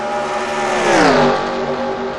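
Race cars battling for position on the Le Mans circuit in a video game, with a loud engine note rising in pitch and then falling as a car sweeps past up close.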